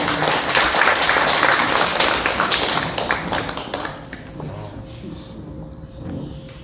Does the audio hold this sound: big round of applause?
yes